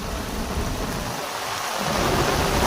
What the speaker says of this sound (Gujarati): અતિ ભારે વરસાદ ચાલુ